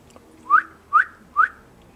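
A person whistles to call a hen outdoors: three short, bright rising whistle notes, evenly spaced about half a second apart, fairly close and alone with no talking.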